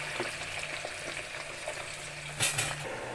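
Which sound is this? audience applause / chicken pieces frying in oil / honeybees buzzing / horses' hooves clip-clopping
chicken pieces frying in oil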